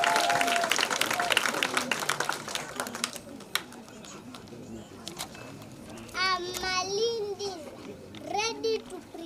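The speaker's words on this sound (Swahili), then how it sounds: "Tuwape makofi." Clapping from a group at an early childhood education event in Makueni, Kenya, busy for the first few seconds and then fading as children's voices take over.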